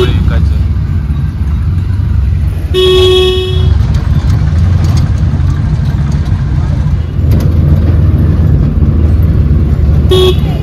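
An auto rickshaw rides through local traffic on the way to a samadhi temple in Akkalkot, with a steady loud engine and road rumble throughout and a couple of sharp horn toots, one mid-ride and one near the end.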